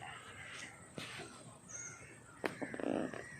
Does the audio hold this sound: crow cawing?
yes